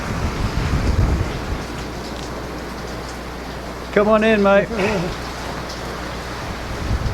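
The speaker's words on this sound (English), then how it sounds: "The rain's certainly come down." Heavy rain pours down around a beach cave at Gardenstown Beach in Aberdeenshire as a constant hiss with gusty wind buffeting. A man calls out briefly partway through.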